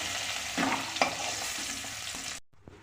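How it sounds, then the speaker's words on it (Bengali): Potatoes frying in oil sizzle steadily with a couple of stirring knocks, then the sound cuts out abruptly and returns faintly. "আমি আলু ভাজা বসিয়ে দিয়েছি আলুটা লাল লাল করে ভেজে তুলে দেব"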